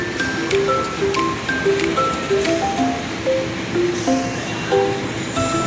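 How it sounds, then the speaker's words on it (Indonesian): Local train about to depart Rangkas Bitung station bound for Cilegon, heard as steady rumbling station ambience with scattered tonal squeals and clanks throughout, fairly loud and continuous, with no talking. "saatnya kereta sebentar lagi akan diberangkatkan dari stasiun"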